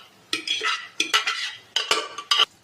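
Thick boiled dal being added to sautéed cabbage in a pot and stirred with a utensil, giving several separate bursts of wet scraping and clinking, close and alone.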